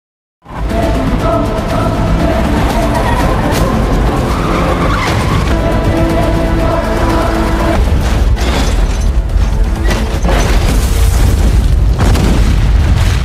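Film car chase ending in a car explosion: loud, dense rumbling roar with skidding tires and booming blasts under a continuous action score, sustained throughout.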